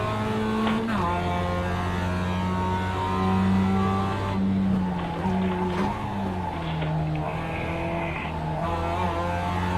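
Race car engine droning steadily through a racing video game, its pitch stepping up and down with gear changes and cornering, with brief tire squeal as it slows into bends; continuous and close.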